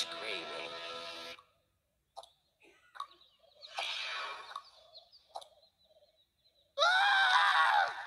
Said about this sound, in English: This is the part where you run away screaming